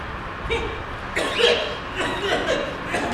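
Several short, harsh coughs in separate bursts over a few seconds during a stage play, close by and fairly loud.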